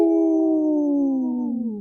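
A single long wolf howl, loud and clear, holds a smooth tone that slowly slides downward over nearly two seconds, with no talking over it, played during a radio segment on Minnesota's wolf population.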